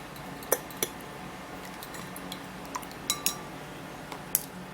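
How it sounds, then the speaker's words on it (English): A spoon stirs a homemade honey drink, giving sparse light clinks against the cup over a soft, steady background hiss, with no talking. "so now let's stir this up"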